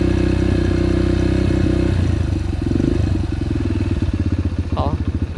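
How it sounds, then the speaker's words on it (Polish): A Yamaha TTR 125 motorcycle engine idling while warming up, close and loud with a steady rhythmic putter throughout, the beat becoming choppier toward the end as the revs shift slightly. "Ja zawsze motor rozgrzewam przed jazdą."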